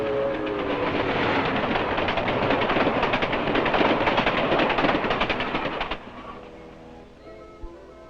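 A train rumbles steadily along the rails with a dense, rattling roar that fades after several seconds, leaving quieter clanks and a brief knock near the end.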